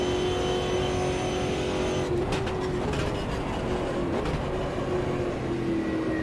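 A race car engine in the sim racing game Automobilista 2 drones at steady high revs, loud and continuous, with brief gear-change blips partway through.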